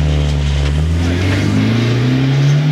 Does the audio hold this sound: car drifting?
yes